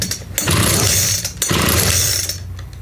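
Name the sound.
2-stroke line trimmer engine pulled over for compression test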